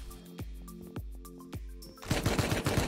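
Gunfire in the survival video game Rust, a few separate sharp shots followed by a rapid burst of automatic fire, loud and close with no talking over it.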